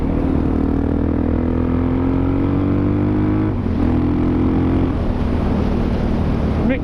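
A Suzuki DRZ 400SM motorcycle with a Yoshimura exhaust runs close by, its single-cylinder engine note holding steady, climbing slightly, then dipping briefly twice before settling again.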